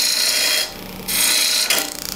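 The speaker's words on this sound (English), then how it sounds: "So I can come back here now and start really roughing away the wood quickly." A turning tool roughs wood off a vessel blank spinning on a lathe, a steady loud rasping scrape that drops briefly in the middle and then resumes with a rippling chatter at the end.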